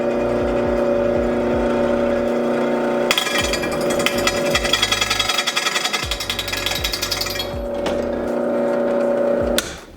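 A power drill grinds steadily into metal, its loud hum broken by a harsher, rattling stretch in the middle as the drill bit breaks off, before winding down at the end.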